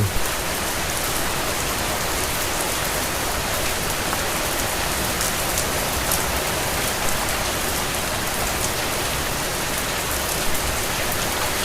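A sudden heavy monsoon downpour pounds steadily, a dense, loud, unbroken hiss of rain with no voices.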